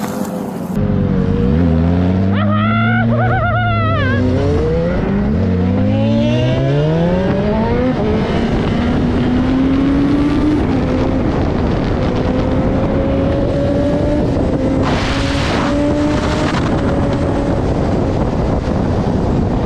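A loud motorcycle engine revs up and down repeatedly, then settles into a sustained, rising drone close by.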